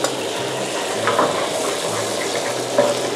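Coconut cream stir-frying in a pan for green curry fried rice with snakeskin gourami: a steady, dense sizzle with soft scraping stirs mixed in, close and continuous.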